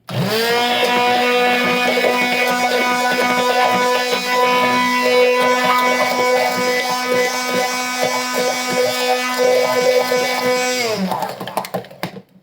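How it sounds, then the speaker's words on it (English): A kitchen blender whirs continuously with a steady motor whine as it purées tomato and Mediterranean red clay into a face pack, loud and close, then winds down and stops near the end. "Sorry, just have to blend this a little."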